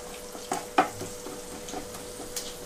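Ginger garlic paste frying with softened onions on a medium flame for aloo methi curry, a faint steady sizzle broken by a few sharp spoon clinks against the pan, close and quiet, with no talking.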